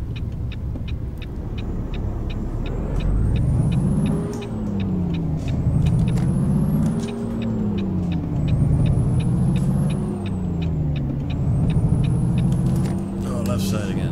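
A truck's air brake hisses as it releases in Euro Truck Simulator 2, over a steady engine drone with repeated rising and falling tonal sweeps. A voice talks through parts of it.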